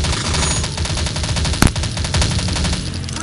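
Rapid automatic fire from an MP7A1 submachine gun in the shooter game Crisis Action, a loud continuous stream of shots with one sharper crack midway and no talk.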